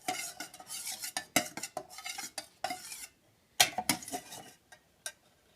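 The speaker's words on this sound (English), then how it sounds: "Stir it in." Melted tallow being stirred for candle making, a series of close metallic clinks and scrapes of a utensil against the container in irregular bursts, with brief quiet gaps between.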